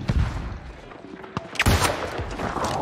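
Cannon fire during a New World siege invasion: a few sharp booming shots with crackling reports amid busy battle noise, fairly close.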